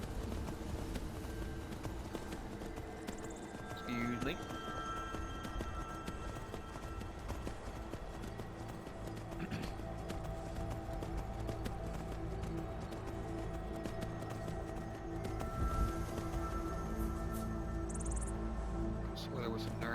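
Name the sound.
horse hooves galloping in the video game Skyrim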